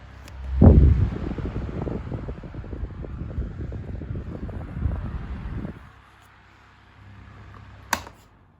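A 2003 12-inch desk fan running on high gives a loud, steady whooshing roar of blown air with rough buffeting, then drops to a faint hum near the end after a brief click.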